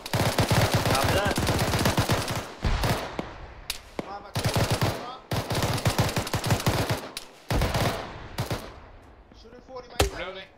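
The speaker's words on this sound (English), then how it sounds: "Sounds like we're taking shots from the southeast." Gunfire during a military-style tactical game operation, coming as dense automatic bursts and rapid volleys of shots in several clusters separated by short gaps, loud and close, with voices talking between and over them.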